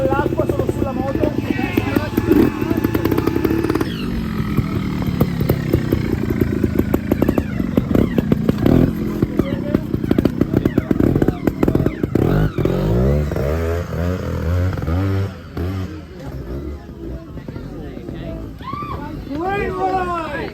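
Trial motorcycles competing at the Trial des Nations in Spain, engines revving and popping in bursts with clattering over rocks, loud and close, with people talking throughout.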